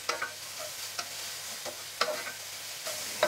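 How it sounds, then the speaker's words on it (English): Bell peppers sauté in olive oil in a pan, a soft continuous sizzle broken by several scraping stirs and light utensil taps, close and moderately quiet. "we just want to cook these peppers until they're nice and soft and pliable"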